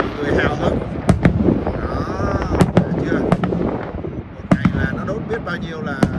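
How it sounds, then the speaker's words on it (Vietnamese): Fireworks bursting over Niagara Falls at night, a rapid series of sharp booms and crackles with a rumbling wash between them, while people talk excitedly throughout. "Bao nhiêu là pháo nha"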